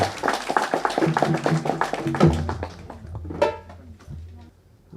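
Rhythmic hand clapping from an audience at a live gaana song performance, sharp regular claps mixed with a singing voice that fades out near the end.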